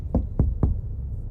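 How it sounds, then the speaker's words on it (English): Three firm knocks on a door in a detective video game, evenly spaced and close, with a dull hollow thud to each. "Why is he knocking on his own door?"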